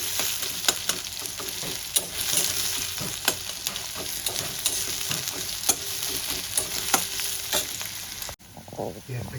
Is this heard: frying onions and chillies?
yes